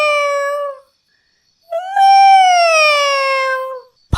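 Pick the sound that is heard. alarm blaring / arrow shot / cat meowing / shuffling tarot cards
cat meowing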